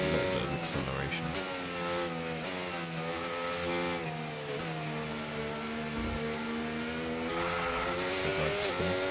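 A race car engine accelerates with a loud, continuous, high-pitched whine whose pitch rises and dips as the driver works the throttle. It stays steady and close throughout.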